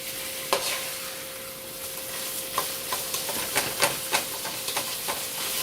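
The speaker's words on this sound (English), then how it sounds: "So you're going to brown up the ground beef" A pound of ground beef browns in a hot pan, giving a steady sizzle and hiss broken by scraping stirs and spatula clicks at a close, even level. No one speaks.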